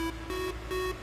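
A pluggnb beat made in FL Studio with the Fruity Flangus flanger on a synth: a repeating high beeping tone in short pulses over a swirling, washy background, steady and moderately quiet.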